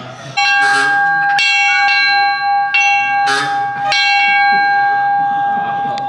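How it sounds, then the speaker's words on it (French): Temple bell at a stop in Surat Thani, Thailand, struck three times: loud, ringing metallic strikes with long shimmering sustain between hits, heard close and alone. "C'est le monsieur qui m'a dit sonne la cloche 3 fois."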